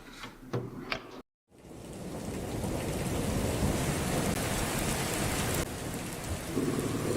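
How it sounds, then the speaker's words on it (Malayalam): Heavy rain pours down outside in a steady, dense roar, broken only by a brief silent gap near the start, then continuing loud and unbroken with no voices. "പുറത്ത് നല്ല മഴയാ."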